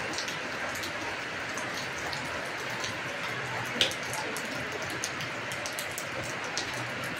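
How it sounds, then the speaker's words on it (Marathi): Afternoon rain falling in Kalyan, a steady dense patter of drops on surfaces with a few sharper nearby drips, continuous and moderately loud. "पण पावसाचा आवाज येतो बघा."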